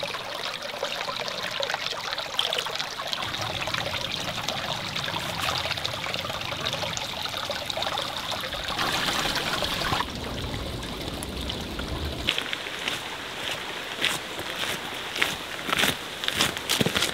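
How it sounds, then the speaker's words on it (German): Water is poured back into a container outdoors during an overnight hike through dense terrain, a steady trickling stream lasting throughout with occasional rustles and shifting splashes. "So, wir füllen jetzt hier nochmal ein wenig Wasser nach."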